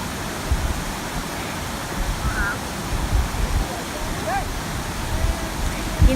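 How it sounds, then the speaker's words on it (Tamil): Minnehaha Falls waterfall heard from the top of the falls, a steady, dense roar of rushing water filling the whole clip at close range. "நாம் இப்போ ஃபால்ஸ் மேலே இருக்கோம்."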